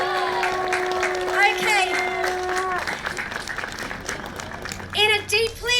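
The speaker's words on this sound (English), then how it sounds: "Give yourselves a big round of applause." Applause from a crowd at a human rights gathering, dense clapping with cheers under a voice; a sung tone at the start, then a short word spoken over the noise.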